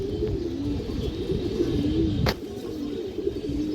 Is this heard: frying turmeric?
no